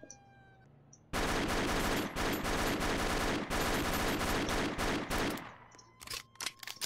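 AK automatic fire in the Roblox game ER:LC rattles in a sustained rapid burst for about four seconds, loud and close, followed by a few scattered shots.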